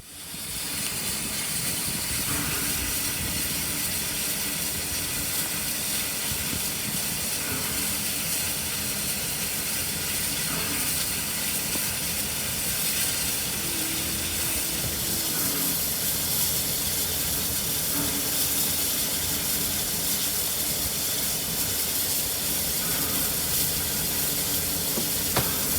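An R class steam locomotive hisses steam before departing on an overnight train trip, a loud continuous broadband roar of escaping steam lasting throughout with little change.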